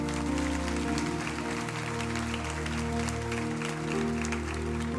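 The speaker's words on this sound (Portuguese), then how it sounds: "Aplauda Jesus." A church congregation applauds during a sermon in a continuous wash of clapping, heard under a steady sustained organ or keyboard chord.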